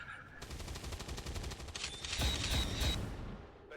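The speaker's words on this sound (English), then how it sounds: "Max damage Overwatch shot." Overwatch gunshots in the XCOM 2 Long War of the Chosen mod, heard as a rapid burst of crackling automatic fire followed by a few heavier thudding impacts, fairly close and with no talk over them.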